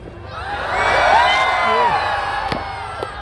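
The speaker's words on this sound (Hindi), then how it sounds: "एक बार पीछे से चिल्ला दो प्लीज।" Large crowd at a stage event in Jamnagar shouting and cheering loudly on cue, a swelling roar with whoops and a few sharp claps near the end.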